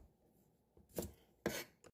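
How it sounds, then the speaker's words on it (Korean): A knife thinly shreds cabbage on a cutting board, giving two crisp, close chopping strokes and a lighter third cut against a quiet room. "양배추 조금도 얇게 채 썰어 놓습니다"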